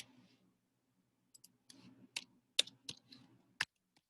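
Faint, scattered clicks from a computer keyboard as answers are typed in, a few irregular keystrokes in a quiet room.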